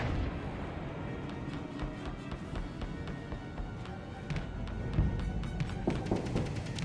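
Missiles firing in a space combat video game, a rapid series of faint, sharp pops and booms over a busy background of game effects, no voices.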